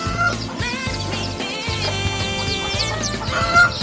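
Chickens cluck loudly and continuously at feeding time in a backyard poultry yard where chicks are hatched, the busy overlapping calls close by and filling the whole stretch with no talk.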